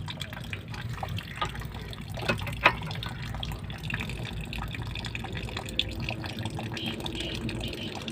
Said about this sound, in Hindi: साथ में पानी चालू हो गया